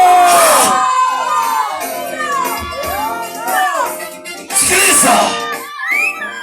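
A congregation at a church gathering shouts and cheers loudly, a dense roar of many voices that swells, dips briefly, then surges again near the end.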